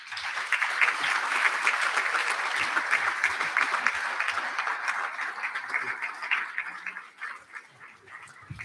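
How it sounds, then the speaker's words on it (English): Steady, dense applause from an audience at an annual property owners' meeting, sustained for several seconds before tapering off near the end. "Please join me in a round of applause."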